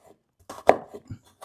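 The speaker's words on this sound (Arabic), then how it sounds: "وبالسكينه كده هقطع الشكل اللي انا محتاجه" A knife chops an onion on a cutting board. There are a few distinct, close, crisp strikes, with one sharp loud chop in the middle and fainter taps around it.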